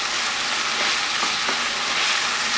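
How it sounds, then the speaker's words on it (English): Minced mutton sautéing in a pan with salt, a steady close hiss and crackle of frying throughout, with a few faint stirring scrapes. "Saute it well. Make sure all the moisture from the minced mutton is dried off."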